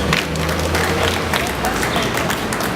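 Audience at an anti-ALEC gathering in Madison, Wisconsin applauding a speaker being introduced, a dense steady wash of clapping from a crowd filling the short stretch.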